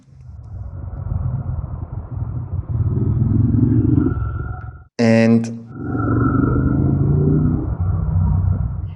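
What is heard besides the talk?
moped approaching and passing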